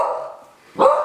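A single nearby dog bark or yip rises sharply near the end of a brief moment, following a soft lower murmur, with no talking over it.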